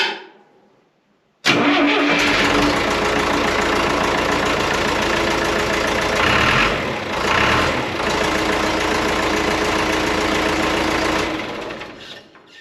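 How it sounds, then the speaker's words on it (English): A heavy diesel engine of an old John Deere JD70 excavator cranks and fires up abruptly, then settles into a loud, steady rumbling idle with a slight surge midway before shutting down. "it's ready for a first fire up"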